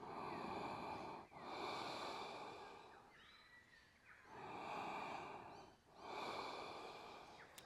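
Deep, slow breaths during a power yoga pose, long airy inhales and exhales, about three full cycles, close and steady, with no talking.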